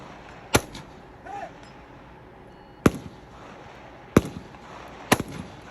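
HK MR556 gas-piston rifle shots at an outdoor shooting match in Virginia: four sharp, loud reports spaced a second or two apart, with ringing echo and quiet outdoor background between shots.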